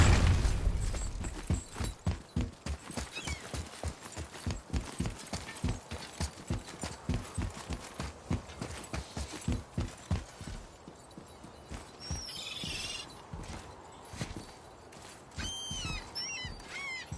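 Horse hooves clip-clop in a steady trotting rhythm in the video game God of War, loud and close at first, then slowing and thinning out, with a few faint background effects toward the end.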